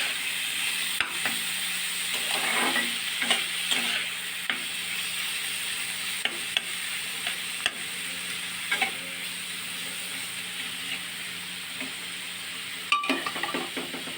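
Cabbage and potatoes with spices stir-fried in a pan, a soft steady sizzle broken by scattered scrapes and clinks of the spatula against the pan.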